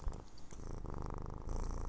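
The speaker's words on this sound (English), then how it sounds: "She's purring." A cat purring close up, a low steady rumble with a quick rhythmic pulse that runs for about two seconds without pause.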